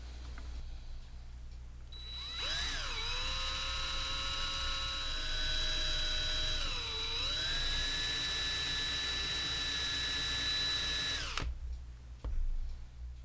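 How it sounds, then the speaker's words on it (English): A power drill whines steadily for several seconds while drilling out metal rivet posts on a Hot Wheels Redline Red Baron die-cast car, its pitch dipping under load midway, then stops abruptly, followed by a faint clatter. "we'll drill those out just like normal"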